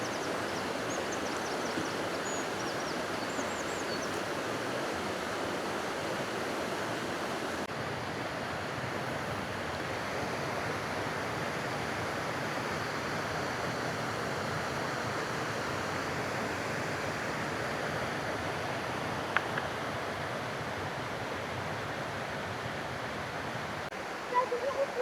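Waterfalls at the Hafod Estate rush in a steady, unbroken roar of falling water, even and moderately distant, with faint wind across the microphone.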